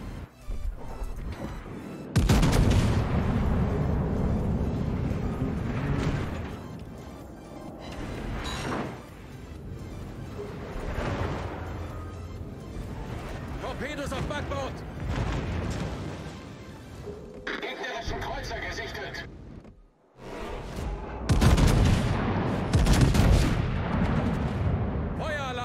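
The Preussen battleship's 457mm guns fire in a naval video game, with repeated heavy booming salvos and rumbling blasts spread across the stretch, loud and close, broken by brief quieter gaps.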